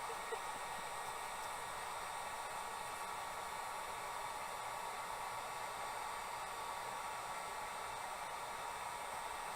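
A heat gun sweeps hot air over craft foam for cosplay bracers, producing a faint, steady airy hiss that runs unchanged throughout, with no voices.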